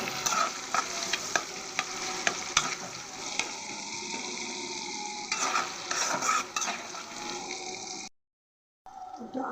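Extra oil frying in a pan for chicken curry with scraping, clinking stirs over a steady sizzle, up close and moderately loud, cutting to a brief silence near the end.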